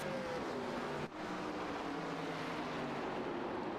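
Race cars roar past at Martinsville short track during an East Coast Racing Circuit event, a continuous loud engine drone with rising harmonic whine and one abrupt momentary drop before the pack noise resumes.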